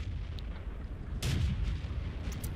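A Chi-To tier 6 Japanese medium tank fires its cannon in World of Tanks, one muffled boom over a low, steady rumble of background noise, fairly quiet and distant.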